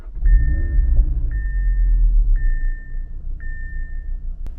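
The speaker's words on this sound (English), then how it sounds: "As soon as you turn on the car," A 2019 Audi TT RS starting up in the cabin: a low engine rumble fills the car while four evenly spaced chime tones sound in sequence, ending with a sharp click.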